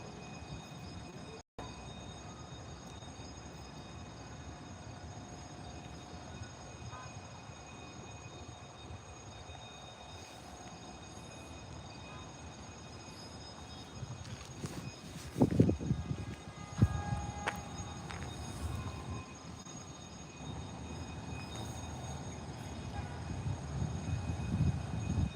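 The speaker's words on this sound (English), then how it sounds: "see when the next train's coming" A train passes through Forest Hills station, starting as a faint distant rumble, then swelling midway with metallic wheel squeals and clatter and staying fairly loud toward the end, with no one talking.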